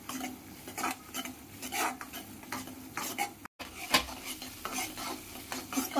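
Sheera prasad cooks in a pan over a medium flame while a spoon stirs it, with repeated scraping and clinking against the metal over a soft, steady sizzle close at hand.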